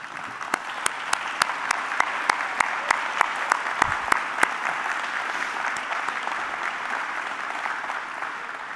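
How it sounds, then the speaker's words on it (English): Steady applause rises from the audience at an alumni awards breakfast as honorees stand, with a few sharp, close individual claps standing out over the even wash of the crowd. "ask everybody who's getting an award today to stand up so we can give you a round of applause"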